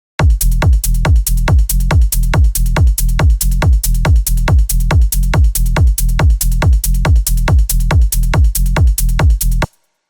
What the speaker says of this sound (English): So first I created this basic techno loop that sounds like this.